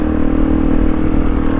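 A motorcycle engine runs on the way to town, a loud, steady, close-up drone over a brief moment with no voices.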